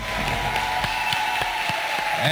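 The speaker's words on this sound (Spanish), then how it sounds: "con un gran aplauso a nuestro Dios" Church congregation applauding at a charismatic service in Cali, Colombia, a room full of hands clapping with distinct rhythmic claps standing out over a hall hum, moderately close and steady.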